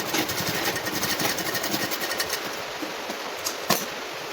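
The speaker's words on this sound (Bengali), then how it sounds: "এটা মেশিনে সেলাই করছি, আপনারা হাতে সেলাই করলেও করা যায়" A sewing machine runs steadily up close, stitching fabric for a handmade hair flower, with a dense rapid mechanical rattle that eases slightly toward the end and a single sharp click near the finish.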